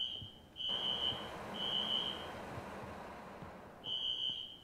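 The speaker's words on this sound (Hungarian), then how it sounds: "Hoppa, bekapcsoltam a riasztót." High electronic alarm tone sounding in long repeated beeps with gaps, set off in a survival video game, fairly faint over a low background hum, no talking.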